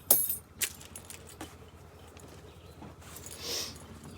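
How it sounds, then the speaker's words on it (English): A bunch of keys jangling as it is handed over beside a retro RV, with a few sharp metallic clinks up close and then faint rustling. "Here's the keys."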